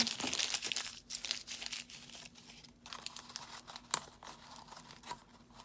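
Junk mail paper being crumpled and bunched up by hand for packing a Monstera adansonii plant for shipping, a steady close crinkling with a sharper crunch near the end.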